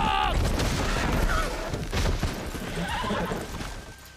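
A horse in a video game whinnies sharply at the start, followed by a busy, loud scramble of hoofbeats and clattering noise that lasts throughout.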